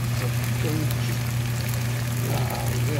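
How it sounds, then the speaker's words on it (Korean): Chicken gizzards deep-frying in hot oil give a steady, dense sizzling and bubbling hiss with a low hum underneath, continuous and close throughout. "닭똥집 튀김을 한번 해보려고"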